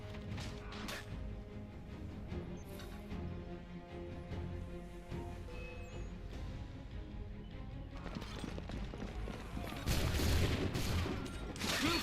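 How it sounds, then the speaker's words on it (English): Musket volleys from enemy soldiers in Assassin's Creed III, scattered cracks and bangs amid battle clatter and background noise, building to a louder burst of shots and crashing impacts toward the end. "Bluecoats firing from above."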